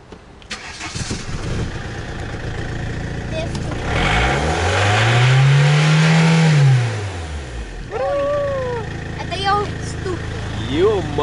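A car engine cranks, catches and starts, then revs up in a rising and falling sweep before settling, followed by shorter blips, loud and close with voices talking around it.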